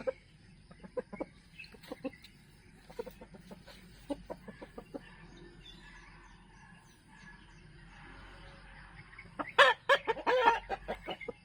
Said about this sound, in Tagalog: Sabong na naman yung dalawa kong mga turi-turi manok.